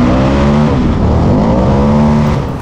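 Motorcycle engine with 60-degree cylinders and a lightened crankshaft revving up and down, loud and close, steady throughout with a slight fade at the end.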